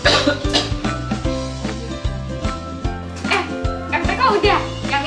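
A person coughs several times in short, sharp bursts at close range, interleaved with people talking in an indoor setting.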